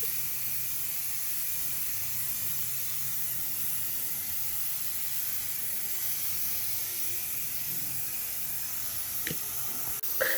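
Spray paint goes onto a mag wheel in a steady, unbroken hiss that runs on evenly and fairly faintly, with a couple of small clicks near the end.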